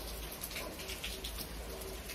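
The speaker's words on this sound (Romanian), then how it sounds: "Afară plouă, liniștit, eu stau în casă" Steady rain falls outside a house, a soft continuous patter of drops on surfaces, even and unbroken throughout with no voices.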